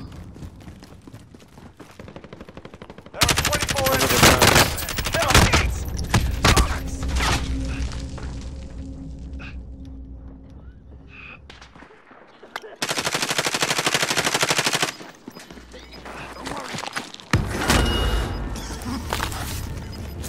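Gunfire in Call of Duty, loud bursts of automatic fire and single shots through a downtown fight, with long stretches of dense shooting broken by brief lulls and some mechanical clatter.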